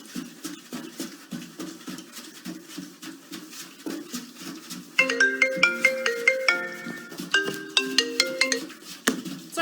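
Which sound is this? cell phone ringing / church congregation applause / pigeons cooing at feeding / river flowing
cell phone ringing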